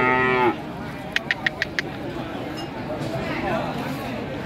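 A cow gives a single loud, low moo at the start, followed by a few sharp clicks and a quiet background murmur, at a cattle market.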